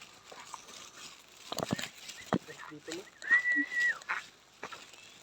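A bird calls outdoors on rural family land, a single clear whistled note standing out amid faint rustling, knocks and background noise.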